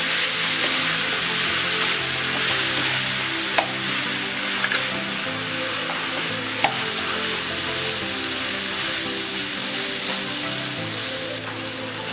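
Kottayam-style beef fry with masala being stirred in a pan, a steady close sizzle of frying throughout with a couple of sharp utensil clacks against the pan.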